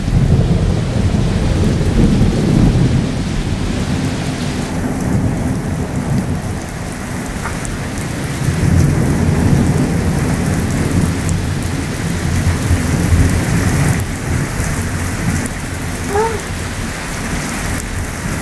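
A thunderstorm pours heavy, steady rain on surfaces close by while deep rolling thunder rumbles underneath in long swells, loud and continuous throughout.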